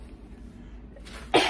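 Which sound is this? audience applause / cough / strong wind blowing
cough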